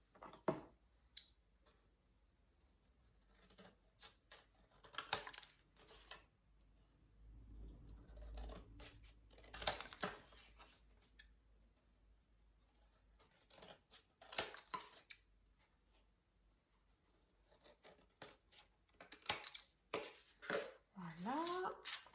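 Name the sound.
cutting corner marks on an album cover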